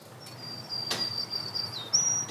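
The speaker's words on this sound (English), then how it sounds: "I'm gonna play you the zzzzuze song of the black-throated green warbler." Black-throated green warbler song, a high, thin buzzy note drawn out and then rising to a short final buzz, faint against a soft hiss of background noise.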